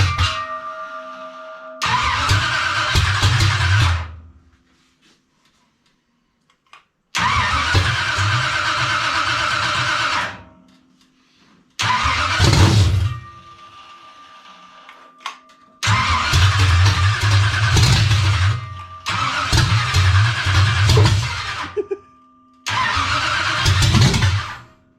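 A car engine newly fitted with a steel carburetor fires up repeatedly: five loud, close bursts of starting and revving, each separated by a few seconds of near silence.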